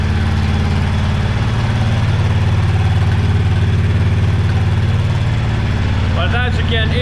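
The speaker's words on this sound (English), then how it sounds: "It's revving a little high because it's running on choke, because it's cold and just started." A motorcycle with a stock OEM exhaust idles high on choke, cold and just started, a steady low, even drone that stays close, while someone talks over it and a brief higher voice-like sound appears near the end.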